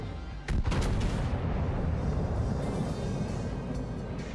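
Warship main battery guns firing in World of Warships Legends, one sharp booming salvo near the start followed by a long rumbling roar of battle noise that fades slowly.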